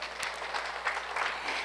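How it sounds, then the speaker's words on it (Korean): A group at a singing class applauds together, a dense, steady patter of clapping hands at moderate volume throughout. "박수 한번 쳐 봅시다"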